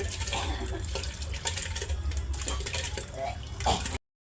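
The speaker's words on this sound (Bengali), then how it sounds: "এবারে আমি চালটা দিয়ে দিচ্ছি, আধ ঘন্টা জলে ভিজিয়ে রাখছি" Soaked rice is tipped into a metal pot for paneer pulao, with scraping, clinking and wet rattling that runs steadily and then stops abruptly.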